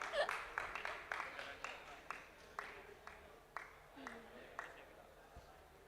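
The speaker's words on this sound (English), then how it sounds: "give her a hand of applause" Audience applause in an industrial tech talk setting, a series of sharp claps at a steady rhythm that thin out over a few seconds, moderately faint, with a voice briefly heard alongside.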